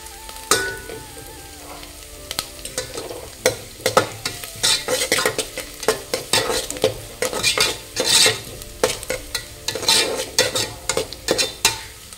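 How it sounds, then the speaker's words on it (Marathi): Onion sizzles while being sautéed in a pan for a Malvani-style egg curry, with a spatula scraping and clanking against the pan in steady, busy strokes over continuous frying. No one speaks. "आधी पहिलो कांदो थोडा वेळ लालसर होईपर्यंत परतून घ्यायचो।"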